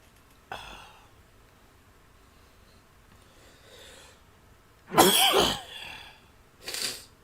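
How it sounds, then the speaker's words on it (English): A person coughing and clearing the throat indoors, one short cough followed by a louder burst of harsh coughs and a final cough, close to the microphone, with quiet breathing between and no speech. "I'm all coughed out."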